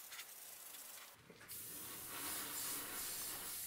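An airbrush sprays SG100 intercoat clear over a layer of candy paint. A faint hiss opens the clip, there is a short pause, and then a steady, louder spray hiss runs to the end.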